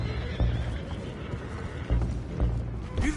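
Horses in the Red Dead Redemption 2 video game neigh and whinny close by, with hooves clopping and stamping under a busy, steady din.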